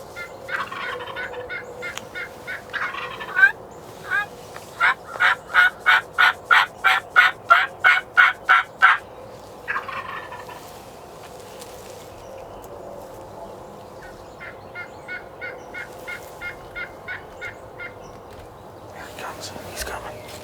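A wild turkey gobbles in a long rapid series of sharp, rattling bursts at middle distance during a hunt, followed later by a fainter gobbling run, with quiet whispering in between.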